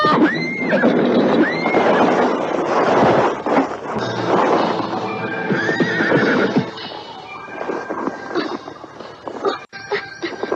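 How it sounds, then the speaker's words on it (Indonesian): A horse walks along a path and neighs loudly at intervals, giving long whinnies over a continuous bed of hoof clops and rustling movement. The sound is close and fairly busy throughout. "Kuda ini berjalan sudah tidak terlalu cepat."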